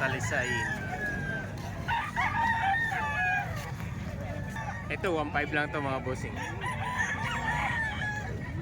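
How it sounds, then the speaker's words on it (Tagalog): Gamecock roosters for sale at a busy chicken market in Calumpit crow repeatedly, several calls overlapping near and far, beneath someone talking continuously. "napakaraming manok mga bossing dito sa kalumpit ngayon"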